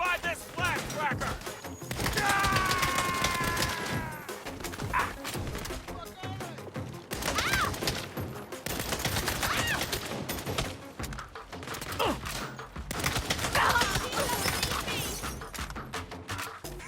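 Gunplay in the Saints Row reboot (Saints Row 5): repeated loud shots and crashing impacts in uneven bursts, mixed with game voices and chatter throughout.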